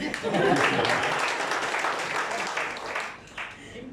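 An audience at a training session applauds, a soft broadband patter of clapping that runs under nearby talk and fades toward the end.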